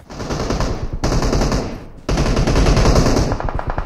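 Sustained automatic rifle fire in the mobile battle royale PUBG Mobile: dense, loud bursts close by, broken by two short pauses, with no talking.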